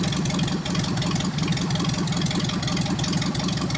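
A small magneto-ignition engine idles low after warming up, giving a steady, close, loud chugging rumble that holds an even rhythm the whole time.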